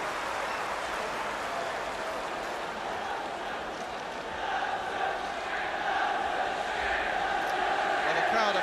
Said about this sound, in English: the crowd are making tremendous noise here now